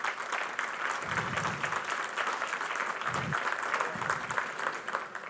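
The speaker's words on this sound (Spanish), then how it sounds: "para los cuales les pido un fuerte aplauso" An audience at a public security and road safety ceremony claps in a sustained burst of dense applause lasting several seconds, fairly close, with a few faint voices beneath it.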